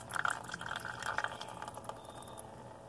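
Churned butter squeezed in a dishcloth, giving faint wet squelches and dribbling liquid in small irregular bursts, quiet and close.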